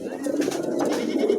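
A pair of Lahori pigeons gives a continuous close, fairly loud cooing call, alone and without talk.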